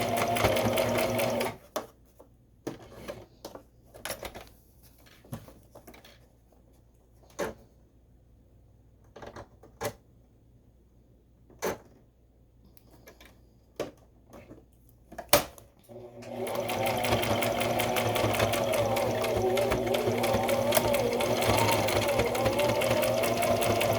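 A sewing machine stitches a fabric casing, with short bursts and scattered mechanical clicks and knocks early on, then a long continuous run of fast, steady stitching close by.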